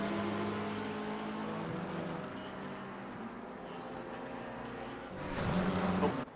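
A race car idles through a pit stop at a summer race, its engine droning steadily at a distance before surging louder near the end as it pulls away.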